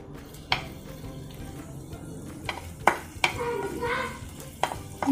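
Onion dropped into a pot of hot oil for a clams masala tempering, giving a soft steady sizzle with a few sharp stirring and pot clatters, close and fairly quiet, no talking.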